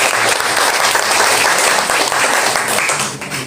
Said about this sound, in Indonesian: Boleh kasih tepuk tangan buat worship leader dan para musician sendiri.